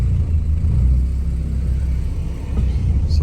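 A Mazda RX-8 rotary engine that has sat idle for over a month runs with a steady low rumble and slight fluctuations, smoking, close by and with no talking.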